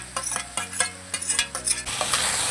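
Mixed vegetables for chicken chow mein are tossed and stirred in a hot pan, with irregular scraping strokes over a rising sizzle of frying.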